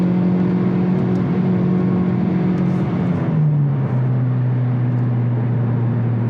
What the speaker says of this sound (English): I'll downshift, even here, and just accelerate into it.